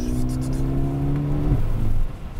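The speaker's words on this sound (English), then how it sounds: "I do like the turbo noise that the car produces" A Mercedes-Benz A35 AMG with its turbocharged engine droning at steady revs, then the pitch drops as the throttle lifts, followed by a brief wastegate whoosh, heard from inside the car.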